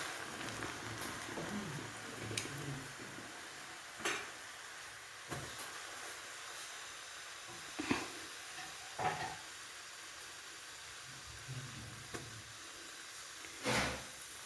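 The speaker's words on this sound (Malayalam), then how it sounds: "ഈ എണ്ണ ചൂടാകുമ്പോൾ നമുക്ക് വറുത്ത് കോരാം" Steady low sizzle of papaya pickle ingredients frying in hot oil, with occasional clinks and scrapes of a utensil against the pan.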